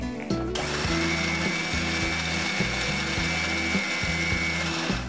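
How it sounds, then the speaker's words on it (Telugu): A kitchen mixer grinder starts up sharply and grinds dry fruits for wheat flour laddus, a loud, close, high whirring with a rapid rhythmic rattle of pieces tumbling against the blades, running continuously. "డ్రై ఫ్రూట్స్ని కూడా ఇందులో ఒకసారి వేసి మిక్సీ పట్టేద్దాం"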